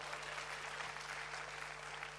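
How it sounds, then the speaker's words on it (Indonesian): Faint applause from a church congregation fills the space as an even wash of many hands clapping, with a low electrical hum underneath and no clear voices. "Beri tepuk tangannya Maria"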